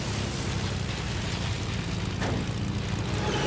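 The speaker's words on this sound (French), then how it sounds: "Un avion." A propeller airplane flies overhead, a steady loud droning roar that holds for several seconds and swells slightly toward the end, with no talk over it.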